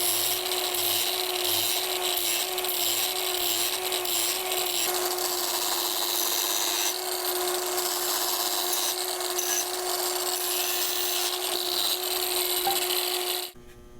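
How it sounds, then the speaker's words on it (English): A grinding wheel cut saw hums and rasps steadily as it shapes wood into a wavy, organic curve, a loud unbroken whine that cuts off abruptly at the very end. "grinding wheel, a cut saw."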